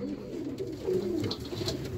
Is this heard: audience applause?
no